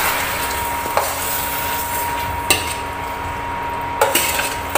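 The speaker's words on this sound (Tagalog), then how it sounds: "mix ulit" Beef kaldereta with tomato sauce and liver spread being stirred in a pot, with a few sharp utensil clinks against the metal at intervals over a steady low kitchen hiss.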